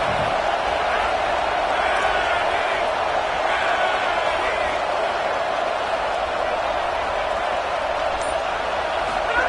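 Stadium crowd roar in College Football 27, a loud continuous wall of noise from the stands with faint cheering and a voice talking over it.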